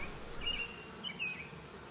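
Honey bees buzz around a garden hive being calmed with smoke, a thin steady drone with a few louder passes as individual bees fly close.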